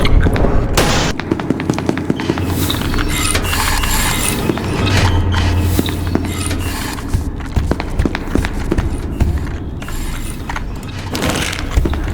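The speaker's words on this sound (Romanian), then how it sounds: "Explozie masivă!" Loud, continuous roaring blasts and rumbling crashes fill the scene, a dense barrage of game explosions with clattering debris throughout.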